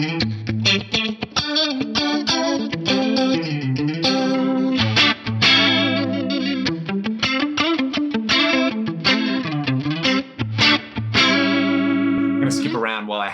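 Guitar runs through a faux Leslie effect setting on an Axe-Fx III, sustained distorted chords with a swirling, wobbling rotary-speaker modulation, played continuously and fairly loud with no talking.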